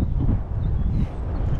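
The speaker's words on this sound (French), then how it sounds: "là ça commence à y avoir un peu de vent" Wind buffets the microphone on an electric mountain bike ride in Eugi, a steady low rumble that fills the whole short stretch, with no other clear sounds.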